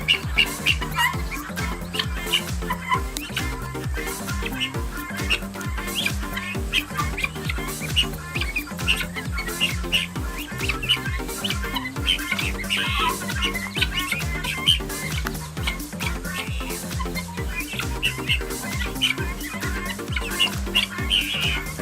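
Repeated guinea fowl squawks and chirps ring out in a garden over a steady, busy background, close and fairly loud throughout.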